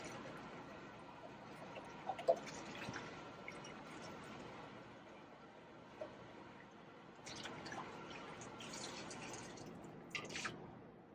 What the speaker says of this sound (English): you can rinse it off again with some normal water to take out all the bubbles